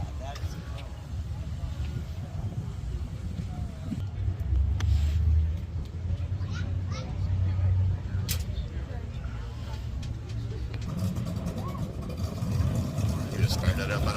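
A classic car's engine rumbles steadily at a McCleary Bear Festival car show, a low continuous idle with some revving swells, running under nearby people talking throughout.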